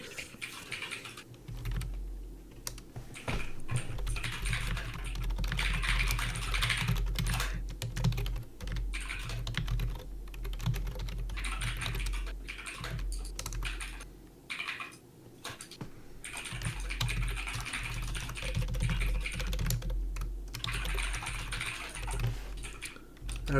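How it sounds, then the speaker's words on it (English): Continuous clacking on a computer keyboard, dense irregular keystrokes running throughout at close range, with occasional brief pauses and some talk in the background. "Forget the clack of the keyboard."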